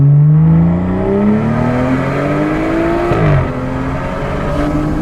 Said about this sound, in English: Give him a little rev, bro. Let him hear it.